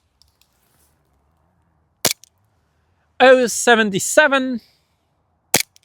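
An EMG Colt M45A1 airsoft gas pistol, a 1911-style sidearm, fires BBs over a chronograph in two sharp, loud cracks a few seconds apart, with someone speaking briefly between them.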